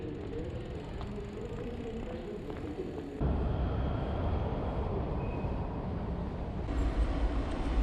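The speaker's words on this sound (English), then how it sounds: "Wait for the train." Washington D.C. Metro train in a station, a steady low rumble that swells louder partway through as the train draws near, heard without talk.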